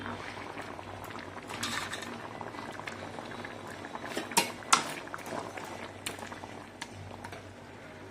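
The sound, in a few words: fish curry with taro boiling in a covered pot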